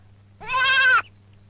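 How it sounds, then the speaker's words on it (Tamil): A goat grazing in a field gives one clear, wavering bleat lasting about half a second, close and loud over a low steady hum. "வயல்ல ஆடு மேயுதே."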